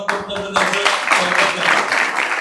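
An audience at an ITI Lonavala farewell ceremony claps for the seated teachers, a dense burst of applause swelling after a brief quieter start and continuing steadily.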